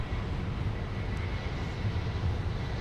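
An Iberia heavy jet airliner departs Minneapolis airport, its engines a steady, broad low roar that holds at an even, fairly distant level throughout, with no voices over it.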